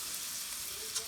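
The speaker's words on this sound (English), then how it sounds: "I'm going to saute up some onions." Onions and garlic sautéing in bacon grease in a breakfast pan, a close, continuous hiss and crackle that holds evenly through the short moment.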